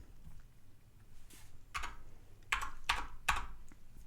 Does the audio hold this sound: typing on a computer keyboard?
yes